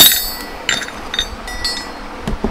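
A steel chisel strikes rounded chunks of gold ore from an abandoned mine, giving a handful of sharp, glassy clinks spaced irregularly over a low background rustle, close and fairly loud.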